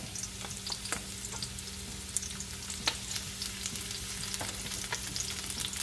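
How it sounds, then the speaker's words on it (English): Garlic and onion sauté in a pan for pork and liver igado, giving a steady close-up sizzle with scattered crackles and a few sharp utensil scrapes, without any talking. "And we're going to saute our garlic and onion."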